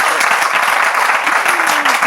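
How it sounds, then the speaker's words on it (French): Audience applause during a French-language Bible quiz broadcast, dense steady clapping filling the whole moment at strong volume, with a voice faintly audible underneath. "on applaudit"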